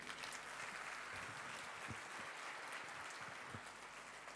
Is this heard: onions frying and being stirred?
no